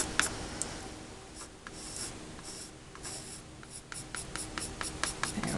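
Inktense watercolor pencil strokes scratch and rub across paper in quiet, irregular bursts, with short quick strokes clustering toward the end; no voices.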